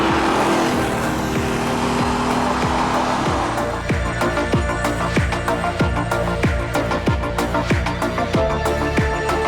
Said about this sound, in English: get it in a gear where you can hear the engine and the revs are nice, and just drive